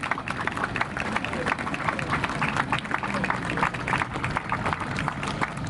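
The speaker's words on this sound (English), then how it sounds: "Your applause, please." Sustained applause from a large audience at an outdoor concours car show as Best of Show winners are announced, dense steady clapping throughout with crowd murmur.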